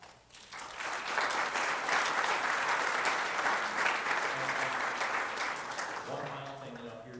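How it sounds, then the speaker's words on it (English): An audience at a church service claps for a high school mission trip group, a dense, sustained round of applause that swells quickly, holds steady, and then starts to thin out near the end. "So give yourself a round of applause."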